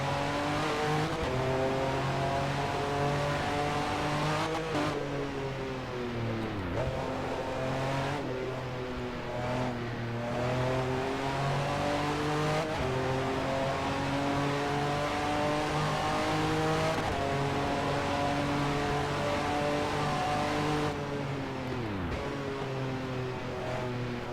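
A GTP race car engine in NASCAR Racing 2003 on the Nürburgring Nordschleife, screaming steadily at full throttle with harmonic revs rising and dropping through gear changes and corners, loud and continuous with no talking.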